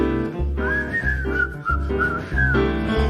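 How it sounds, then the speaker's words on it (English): A person whistles a bright, lilting tune with steady held notes and gentle slides, clear and close over a full musical accompaniment. "try to be just like a cheerful chickadee and whistle while you work"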